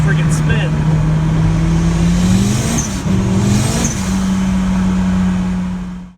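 A car with a 315-horsepower 4-cylinder Honda engine and no weight over the rear end roars at high speed while its tires keep spinning, a loud sustained engine drone with pitch shifts, fading out at the end.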